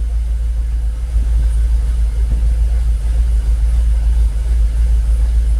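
A Jaguar XKR engine idles just after startup, giving a loud, steady low rumble that stays close and even throughout, with no one speaking.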